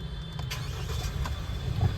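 A Mahindra Thar BS6 engine starts up after a no-start fault was cleared by reflashing, with short cranking bursts and a quiet low rumble catching underneath.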